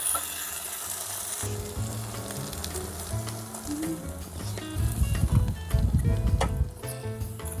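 Tomato paste fries in a pan in a camper van kitchen for an Indian-style dish, giving a steady close sizzle while a utensil scrapes and stirs; the stirring strokes grow louder and busier toward the end, with no talking.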